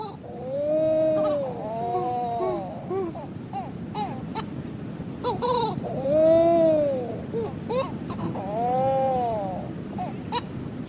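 Two Christmas shearwaters call back and forth with wailing, rising-and-falling three-part cries in a repeating pattern, fairly close over a steady background hiss.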